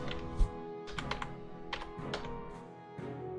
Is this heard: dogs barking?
no